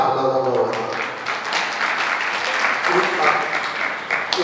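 An audience at a Jain religious discourse in Itarsi, Madhya Pradesh, claps steadily for a few seconds, with a voice speaking over the applause.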